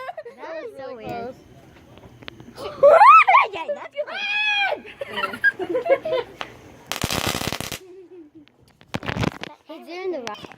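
Fireworks outdoors at a Fourth of July celebration: a rocket crackles and bursts in two sharp broadband blasts, one loud and sustained, one shorter, amid excited, shrieking voices and chatter from people nearby.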